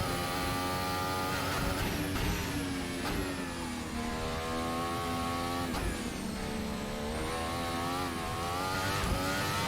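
A Formula 1 car engine roars in a racing video game at Monaco, high-pitched revs climbing through repeated upshifts, with sharp drops at each gear change, loud and continuous from onboard.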